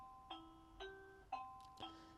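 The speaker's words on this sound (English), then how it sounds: "Oh, there's our doorbell." A home doorbell chimes four times in quick succession, clear two-tone ding notes ringing out over a quiet room.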